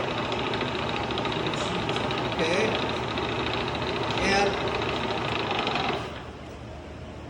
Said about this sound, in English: Now you're gonna start drilling.